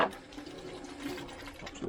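Hot water runs from a tap inside a 2005 Fiat Ducato CJ 7-berth motorhome, a steady close hiss and splash of flowing water filling the short moment without any speech.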